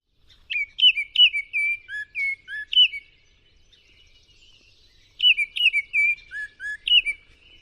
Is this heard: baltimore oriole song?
yes